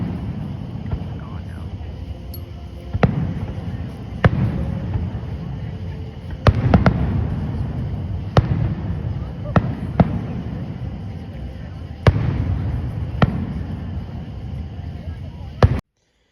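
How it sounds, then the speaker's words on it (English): Fireworks at a Fourth of July show burst in a string of sharp separate booms and cracks, some in quick pairs, over a low outdoor rumble of wind and distant noise. "Those fireworks were amazing."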